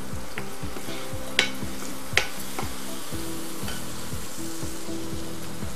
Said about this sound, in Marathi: वाटण ते आपण या मसाल्यामध्ये चांगलं तेल सुटेपर्यंत परतून घ्यायचंय